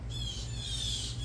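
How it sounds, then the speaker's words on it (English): Harsh blue jay squawks call out in the background, a couple of rasping cries over a constant low rumble. "the blue jays are going crazy in the background"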